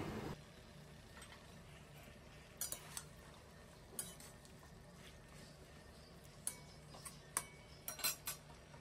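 Malabar spinach curry with turmeric, coriander powder and green chilies is stirred in a pan. Quiet, sparse metal clinks and scrapes from the spoon sound over a soft background hum.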